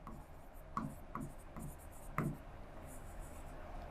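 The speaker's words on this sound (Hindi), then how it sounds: "अम्बेडकर जी लिख रहा हूं मैं," Quiet handwriting with a pen or marker during a general knowledge class, heard as a series of short, separate strokes with brief pauses between them, faint and close.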